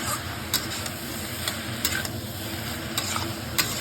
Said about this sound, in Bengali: ঢেলে দিয়ে এটাকে আমি কিছুক্ষণ ভেজে নেব।